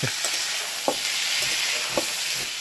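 Capsicum and potatoes sizzle steadily in a hot pan, with a few soft scraping stirs of a spatula at intervals.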